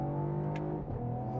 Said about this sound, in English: every time you shift at the red line in this car. It's a really nice sound.